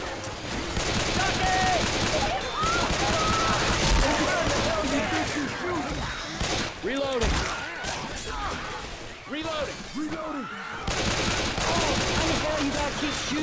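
Dense video game gunfire rattles in rapid bursts that are loud and nearly continuous, with brief pauses. Voices shout over and between the shots.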